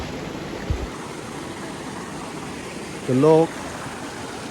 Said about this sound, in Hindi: आप लोग पानी का आवाज़ सुन सकता है